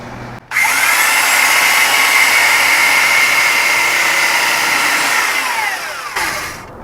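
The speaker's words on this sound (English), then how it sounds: "I'll use the belt sander because it does a lot" A belt sander starts abruptly and runs loud and steady for several seconds with a high whine, grinding against the edge of a wooden door before shutting off.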